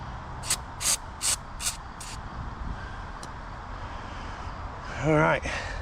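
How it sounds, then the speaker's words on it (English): Five short, sharp hissing bursts of spray lubricant in quick succession, close by, applied to an old wood stove during restoration, followed by a brief voice after a pause. "We got some spray lubricant."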